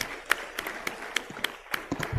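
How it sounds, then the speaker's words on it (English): Scattered individual claps ring out in a legislative chamber during a House of Representatives plenary session. A handful of hands strike in an irregular, sparse rhythm rather than a full ovation, with quiet pauses between the sharp claps. "Let's give him a round of applause"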